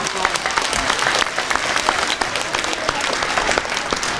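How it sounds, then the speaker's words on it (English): A school crowd at an Arbor Day ceremony applauds the fourth and fifth grade student council, steady, full clapping throughout with some voices mixed in. "can we give a round of applause to our fourth and fifth grade student council?"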